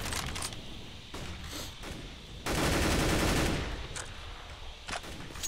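Bursts of gunfire in a competitive Counter-Strike: GO match, several short volleys with one louder sustained stretch in the middle, heard close over faint game ambience.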